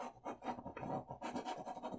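A brush scrubs back and forth against canvas in quick, rhythmic, raspy horizontal strokes during wet-on-wet oil painting, close up with no talking.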